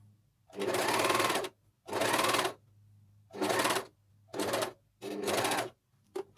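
A Juki MCS1500 coverstitch machine hems a garment neckline in five quick bursts of whirring stitching, separated by short pauses while the fabric is repositioned; close and steady, with no voices.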